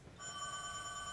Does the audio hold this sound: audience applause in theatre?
no